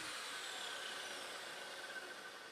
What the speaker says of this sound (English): I'm going to go ahead and cut my plywood to that width and to that length.